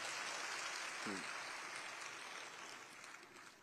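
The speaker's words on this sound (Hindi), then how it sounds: "आप जोरदार ताली बजा के एक बार स्वागत करेंगे भाई" A seated audience at a public gathering claps in a dense, steady wash of applause that gradually fades, with a brief voice heard underneath early on.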